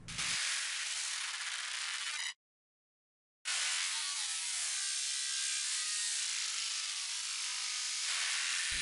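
Dubstep bass in Ableton Live run through a delay with raised feedback and wet mix, a loud gritty buzzing tone that cuts out briefly to silence before resuming and sustaining.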